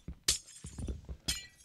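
Glass blocks breaking in Minecraft: two sharp, bright shattering crashes about a second apart, with soft low thumps and footsteps between them, and no talking.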